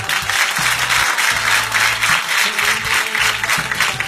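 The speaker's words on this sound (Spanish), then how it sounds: "Aplauso para Cristo." Church congregation applauding at a Q'eqchi'-language preaching service, a steady dense wash of clapping throughout, loud and close, with low musical tones underneath.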